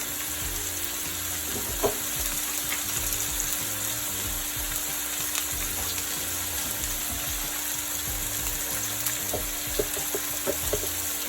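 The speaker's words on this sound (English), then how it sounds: "I'm going to go ahead and drop a piece of garlic in there" A clove of garlic hits a hot pan beside steak and lobster and sizzles with a steady, hissing fry, a few soft clicks and pops breaking through the constant crackle.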